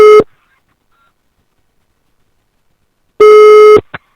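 A telephone ringback tone sounds twice: one short steady beep at the start, a long silence, then a second longer steady tone near the end, loud and clear with no talk.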